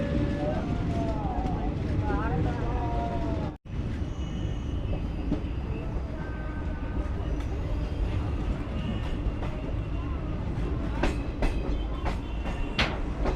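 An express train running on the Barauni–Kiul main line in India, its carriages rumbling with steady clickety-clack rail noise; a voice speaks over it for most of the clip.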